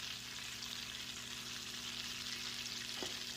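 Chicken browns in about 5 to 6 tablespoons of butter in a pan, giving a steady, even sizzle close by with one brief clink partway through.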